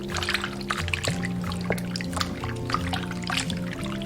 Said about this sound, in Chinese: 然后倒清水淘洗干净